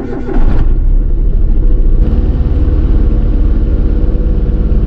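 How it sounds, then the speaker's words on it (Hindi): An old car engine cranks briefly and catches, then settles into a loud, steady idle rumble close by, with no talk over it. "तो सबसे पहले गाड़ी स्टार्ट कर लेता हूँ मैं जी।"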